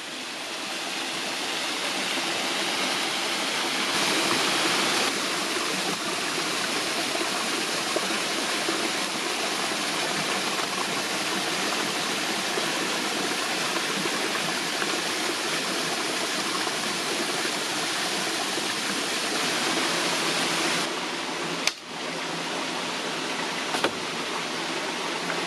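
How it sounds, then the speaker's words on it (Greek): A waterfall about 15 metres high at Makronas, Voulgaro, roars steadily with rushing river water, a loud, unbroken wash of noise with a brief knock near the end. "Και όπως ανεβαίνει ο φακός ψηλά, βλέπουμε τα νερά που τρέχουν."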